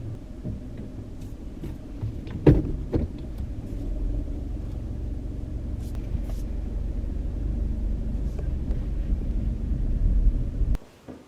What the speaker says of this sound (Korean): 잠깐 운전 연습하러 나왔습니다